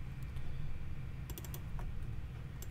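Computer keyboard typing with rapid, close key clicks over a steady low hum, with small clusters of sharper clacks near the middle and end.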